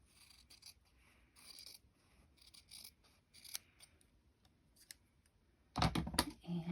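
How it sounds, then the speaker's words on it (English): Scissors snip fabric rectangles for appliqué in faint, scattered cuts and rustles, quiet and close, before a louder burst of handling near the end. "So I will cut there and then cut a second one."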